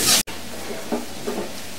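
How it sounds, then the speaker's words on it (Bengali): Sliced onions deep-frying for birista in plenty of oil, a brief loud hiss at the start, then a steady soft sizzle with faint stirring. "বেরেস্তাটা একদম ডুবা তেলেই করতে হবে প্রায়।"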